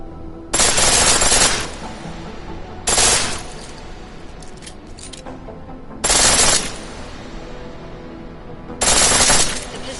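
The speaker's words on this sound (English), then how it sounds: "The pistol in full auto will take down targets fast, but it'll burn through your ammo." Four short bursts of full-auto pistol fire in a video game, each sharp and loud, separated by pauses of a couple of seconds with quieter mechanical sounds between.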